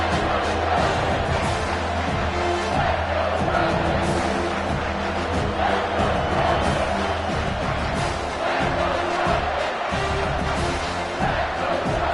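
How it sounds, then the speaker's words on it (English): Stadium crowd at a football game roaring for the defense on third down, a loud, sustained wall of cheering and shouting that holds steady throughout with no break. "Decibels rising as the crowd gets behind this defense on third down"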